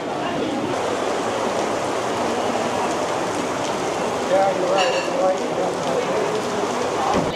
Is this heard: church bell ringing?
no